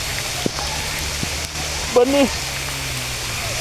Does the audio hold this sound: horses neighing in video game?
no